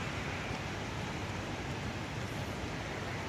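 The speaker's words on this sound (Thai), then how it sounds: "เช้านี้ฝนตกทั้งวันเลยครับ" Rain falling in Kobe, Japan, the day before Super Typhoon Trami, an even and continuous wash of hiss at moderate loudness, with no voices or other distinct sounds.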